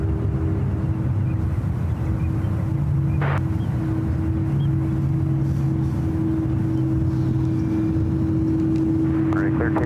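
A United Boeing 777-200ER jet at SFO, a steady loud engine roar and whine with a constant tonal hum, heard from fairly close with people talking over it.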